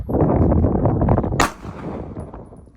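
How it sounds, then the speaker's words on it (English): A single sharp, loud shot from a Glock 43 pistol firing 9mm rounds into gelatin at a range, ringing out alone midway through steady outdoor noise. "now we're gonna shoot the Glock 43"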